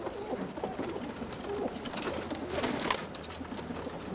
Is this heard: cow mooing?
no